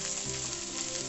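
Curry leaves and chopped green chillies hit hot oil in a pan, giving a steady, loud, close sizzle that runs without a break and carries no voices.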